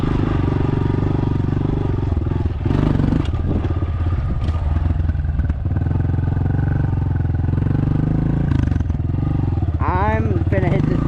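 A dirt bike engine drones steadily throughout the ride, close and loud, rising in a few revving surges, with faint clatter over the running motor.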